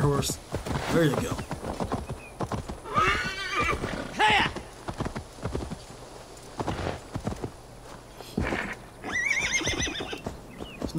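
A horse in Assassin's Creed Valhalla whinnies several times over the clip-clop of its hooves, loud and close, with game sounds mixed in.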